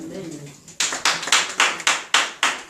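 A church congregation claps in rhythm to acclaim the word of God. About eight sharp, evenly spaced claps sound close and loud after a brief spoken moment.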